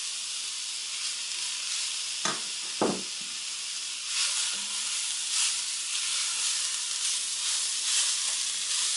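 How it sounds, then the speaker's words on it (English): Pumpkin stirred in hot oil in a pan, a steady close sizzle and hiss running throughout, broken by a couple of brief knocks and scrapes of the spoon against the pan, with no talking. "And just keep stirring it around until everything's coated"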